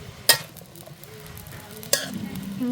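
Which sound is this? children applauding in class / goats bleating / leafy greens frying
leafy greens frying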